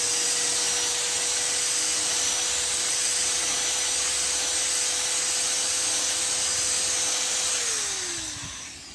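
Power drill boring a hole through a wall to pass wiring for a wall lamp, a loud continuous whine with a steady tone that holds for several seconds, then drops in pitch and winds down as the drill stops.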